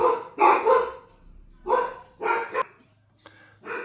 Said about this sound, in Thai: เสียงหมาเห่าดังจังเลยวันนี้